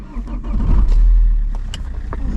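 An MTZ-80 tractor with a homemade snow blade fitted, freshly fuelled, pulls away on a freezing morning to clear village snow. The diesel engine rumbles up loudly and holds steady, close to the microphone, with no talking over it.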